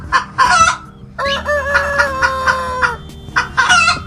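Barnyard fowl cluck and call, a hen's clucking mixed with short crowing-like bursts, loud and close, with a sustained tonal call in the middle and no voices.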